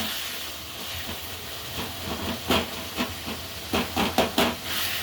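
Tomatoes sautéing in a pan for a Sunday chicken gravy give a steady, hissing sizzle, with a quick cluster of spatula clicks and scrapes toward the end.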